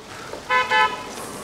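A car on a rainy mountain road near Lapchajagat, Darjeeling, gives two short, loud horn toots in the middle of the clip over a steady hiss of rain and road noise.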